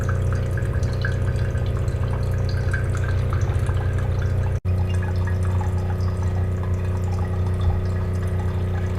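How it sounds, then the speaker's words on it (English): A countertop reverse osmosis water purifier dispenses a strong, continuous stream of water that splashes loudly and close by, unbroken apart from one instant dropout, with no talking. "Okay, I'm really impressed by the flow rate right here."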